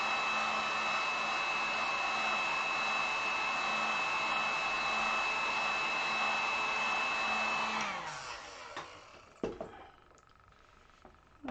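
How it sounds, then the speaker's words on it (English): A heat gun dries metallic acrylic paint on a boho rainbow sign, a steady loud blowing whir running for about eight seconds before cutting off, followed by a few faint handling clicks. "with metallic, it does bubble faster, so do work very fast with your heat gun"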